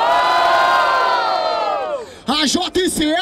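A crowd at an outdoor rap battle in Barueri, São Paulo, roars and cheers loudly in a long sustained swell, then breaks into sharp chanted shouts in bursts near the end.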